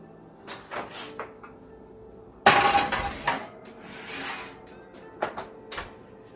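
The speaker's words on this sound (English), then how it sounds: "we're going to put this in our 400-degree preheated oven" Pan of bacon-wrapped, cheese-stuffed jalapeños slid into a preheated 400-degree oven, heard as a loud metallic clatter and scrape, followed by fainter clunks of the rack and oven door.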